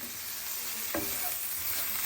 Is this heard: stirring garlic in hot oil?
yes